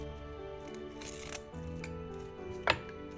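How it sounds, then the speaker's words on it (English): Scissors snipping a strip of nail transfer foil at a nail-art table, a few quiet crisp cuts with a sharper snip near the end, close up. "So I'm just gonna cut a strip"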